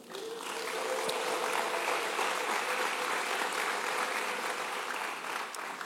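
Continuous applause from a church congregation during an apostle's sermon, steady dense clapping throughout at moderate level; no ululation stands out clearly.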